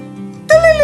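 A human voice imitates the call of a dunlin, a small wader, giving a short, shrill, rising whistle after a low, steady hum.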